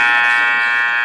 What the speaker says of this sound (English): Let that buzzer finish.